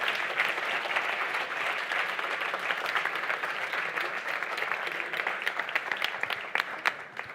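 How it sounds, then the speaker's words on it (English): Audience applause after a talk at a Speck&Tech tech meetup on UX, steady dense clapping from a crowd filling the whole stretch, holding level before thinning slightly near the end. "Your applause."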